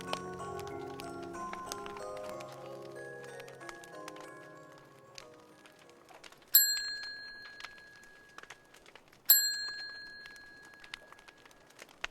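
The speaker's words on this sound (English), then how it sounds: "as the clock chimes again" A clock chimes in a quiet room: a descending run of bell-like tones gives way to two bright, ringing strikes a few seconds apart, each decaying slowly, with no talking.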